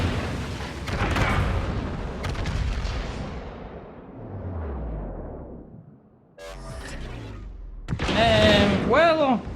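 Main guns of the Yamato battleship in World of Warships fire in a heavy booming salvo, loud and close, with low rumbling trails and later sharp blasts, while someone talks over it.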